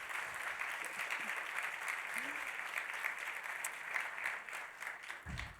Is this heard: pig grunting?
no